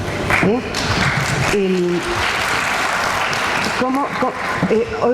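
Listeners at a talk on childhood and adolescence applaud in a sustained, even wash of clapping, while a speaker talks over it at the start and end.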